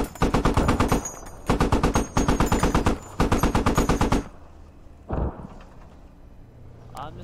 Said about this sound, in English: I'm not sure where they're shooting from.